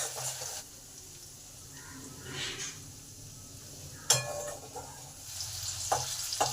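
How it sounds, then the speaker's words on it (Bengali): Ginger, green chillies, dried chillies, cumin and asafoetida frying in oil in a pan, a quiet sizzle with intermittent stirring and a sharp clink of utensil on metal, no speech. "এগুলো সব ভালো করে ভেজে নেব ওই 1 মিনিটের মতো।"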